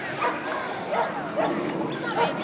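Dogs at a busy public dog park in Piedmont Park, Atlanta, giving several yips and short barks at mid distance over crowd chatter and ambient noise.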